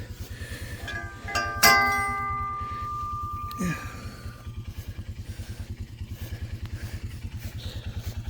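Lawn mower engine stuck in mud, running with a steady low pulsing chug throughout, briefly joined by a metallic clang and rattle near the start as the wheels are locked back in place.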